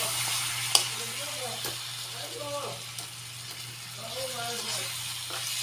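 Chicken adobo with soy sauce fries in a pan and is stirred, giving a soft sizzle and a few faint utensil scrapes beneath a person talking.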